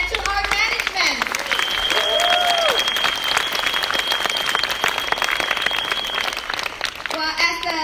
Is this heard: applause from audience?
yes